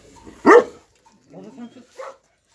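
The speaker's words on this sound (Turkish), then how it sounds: "Çok saldırgan bir köpek." A very aggressive male farm dog gives one loud, close, harsh bark, followed by a few quieter moments as people talk softly nearby.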